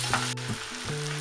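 Zucchini for a garden vegetable frittata goes into a hot pan and sizzles steadily for a brief moment, close and fairly loud, with a faint tonal hum beneath.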